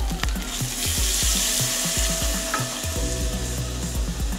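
Boiled raw jackfruit stirred in a pan, a loud close sizzle with rhythmic scraping strokes of the spatula repeating steadily throughout, no talking.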